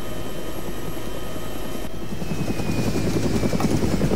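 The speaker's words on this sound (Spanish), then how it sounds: "Volvemos a poner en marcha el helicóptero." A medium utility helicopter's engine and rotor run in the video game ArmA3, a loud continuous whine and thrum whose beating pulse grows stronger toward the end.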